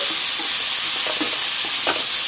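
Egg and onion curry being stirred in a pan, a steady loud hiss of frying with faint scraping strokes of a spoon against the pan, close and continuous, no voices.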